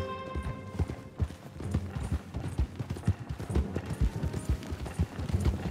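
Horse hooves clip-clop at a steady trot in Red Dead Redemption 2, a crisp, rhythmic stream of hoofbeats close by with faint ambient background.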